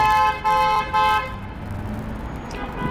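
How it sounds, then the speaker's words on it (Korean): Car horns honk in heavy street traffic in Dalian, China, with two or three long, loud blasts up front followed by a rumbling mix of passing engines and a fainter honk near the end. "진짜 여기 교통이 진짜 드럽다"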